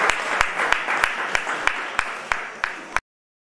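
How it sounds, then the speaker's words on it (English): Audience applause at a closing ceremony: a wash of clapping with a few sharp, evenly spaced claps standing out, continuing steadily before cutting off abruptly into silence. "A big round of applause for them."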